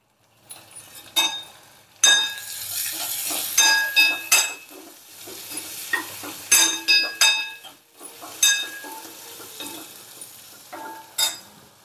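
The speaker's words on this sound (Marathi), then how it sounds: "याला आता 5 मिनिटं चांगलं परतून देऊ" Potatoes with turmeric sautéing in a pan, a bright crackling sizzle under repeated sharp clinks and scrapes of a spoon stirring against the metal in irregular bursts, close and fairly loud.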